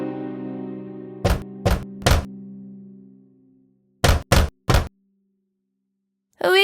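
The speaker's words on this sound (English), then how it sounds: "and knocked on the door." Two sets of three firm knocks on a door, evenly spaced, following a fading musical tone, with a pause between each set.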